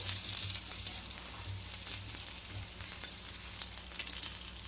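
Aloo mirchi bajji, battered potato-stuffed chillies, bubble in deep oil with a steady, close crackling sizzle and occasional light clinks, no talking.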